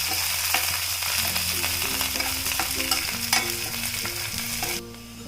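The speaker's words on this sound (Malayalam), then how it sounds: "അതെല്ലാം കൂടെ ഇട്ടൊന്ന് വഴറ്റി എടുക്കാം" Curry leaves and onions sauté in hot oil in a pan for crispy potato 65, a loud, steady sizzle with a spoon stirring and scraping, faint music underneath and no voices, quieting at the very end.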